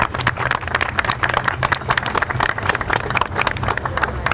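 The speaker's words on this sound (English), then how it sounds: "Give him a round of applause" Audience applause at an outdoor ceremony on the Saw Mill River daylighting project on New Main Street in Yonkers, greeting the sculptor; dense, steady clapping from a crowd runs throughout the few seconds with no voices.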